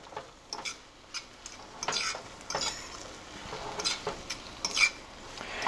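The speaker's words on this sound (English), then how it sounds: "Sit that out of the way and scramble like you would scramble eggs." Corned beef and eggs being scrambled in a pan: quiet, steady sizzling under repeated light scraping and tapping strokes of a utensil against the pan, moderately close.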